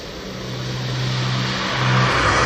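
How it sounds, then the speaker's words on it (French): A truck pulls away through a port terminal at night, its engine rising in a steady mid-pitched drone that grows slightly louder, with no voices. "Voilà, le camion disparaît."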